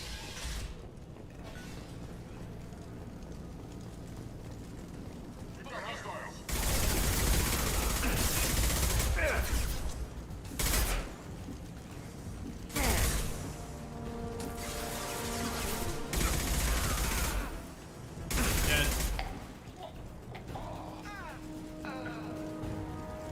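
Bursts of automatic gunfire from Blue Suns mercenaries and Vorcha in the Mass Effect 2 video game, loud rattling volleys arriving in several long bursts with mechanical clatter between them and game sounds filling the gaps.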